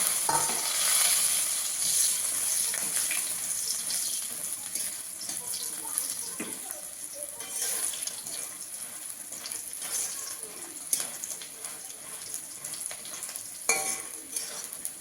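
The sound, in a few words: frying lentil dumplings in oil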